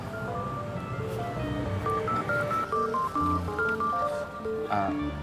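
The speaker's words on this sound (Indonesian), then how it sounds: "Sebentar ya, aku angkat telepon." A mobile phone rings with a looping melodic ringtone of bright electronic tones, steady and fairly loud, with no one talking over it.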